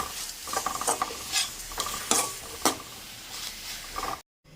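Tomatoes and salt sautéed in a kadai, with a spoon scraping and stirring through a soft sizzle in repeated bursts, close and moderately loud, ending abruptly.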